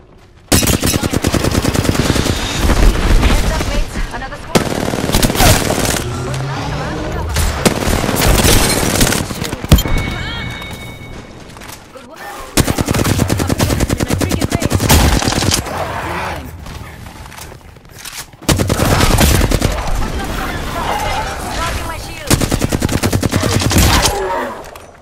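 Loud, rapid automatic gunfire from the shooter game Apex Legends rattles in long sustained bursts separated by brief pauses, close and dominant throughout.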